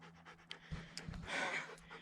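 A worn-out dog panting during a break on an off-road trip in the Yakima River Canyon, Washington: rapid, breathy, close pants with a faint hum in the background.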